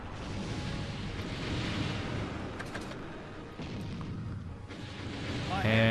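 In the naval combat game Naval Ops: Commander, missiles strike UFOs as a dense, continuous rumble of booming impacts with scattered sharp cracks, moderately loud and sustained throughout.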